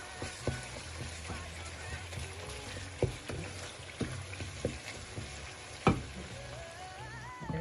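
Ingredients sautéing in a pan for lentil köfte, a soft continuous sizzle with occasional clinks and stirring taps, under quiet talk.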